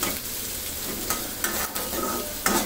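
Chicken frying with garlic, onion and warm spices in a pan, a steady close sizzle broken by a few sharp scraping stirs, with no talking.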